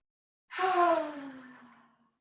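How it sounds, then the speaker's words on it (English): A single deep, long exhale during yoga practice, a breathy sigh that starts abruptly and slowly fades over about a second and a half, close and alone in a quiet room. "3 more deep, long breaths."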